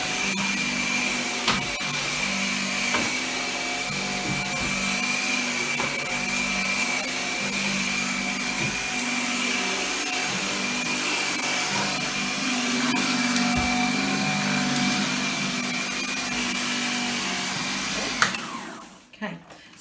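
A Gtech AirRam Mk2 cordless vacuum cleaner runs steadily on a hard floor, a loud, constant whirring hum with small bumps and knocks, then switches off abruptly at the end.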